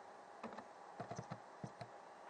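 Light clicking keystrokes on a computer keyboard, a few scattered taps followed by a quicker burst of several presses, faint and close against a steady background hiss.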